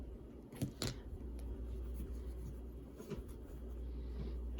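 Scissors snip through crochet yarn while a mermaid-themed blanket border is finished, two quick close cuts near the start followed by soft handling sounds.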